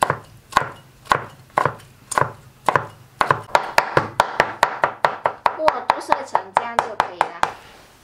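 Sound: chopping soaked wood ear fungus into fine bits with a knife

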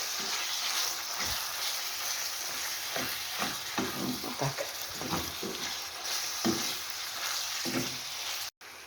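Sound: minced meat frying in a pan

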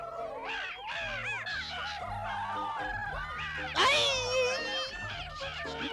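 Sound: voices imitating bird calls

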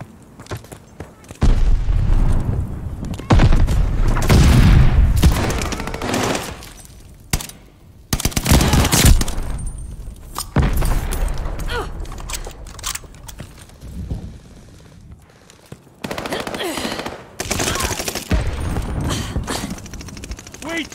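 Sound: gunfire and grenade explosions in the video game Call of Duty Vanguard

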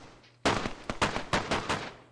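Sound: gunshots in a video game

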